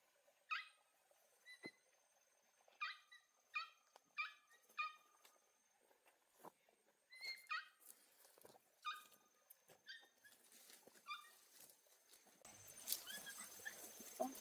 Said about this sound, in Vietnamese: Mình nghe được tiếng chó con kêu ở đâu nhỉ?